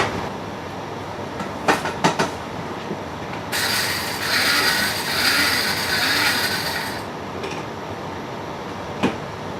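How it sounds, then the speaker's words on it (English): An electric grinder whirs through fennel seeds in one loud, high buzzing burst of a few seconds, framed by quieter kitchen clatter and a few sharp knocks before and after. "We're going to get these into a grinder really quick and just grind these out."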